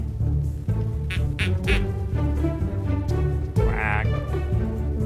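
A cartoonish duck quacking in the video game Kindergarten, a few nasal quacks close up over a steady music bed, with a voice speaking alongside.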